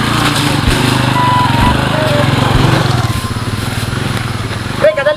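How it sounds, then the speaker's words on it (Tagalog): Motorcycle engine buzzing steadily nearby, loud and rough with a light high-pitched drone, as people talk over it. "murag na ako'y nadunggan motor pre"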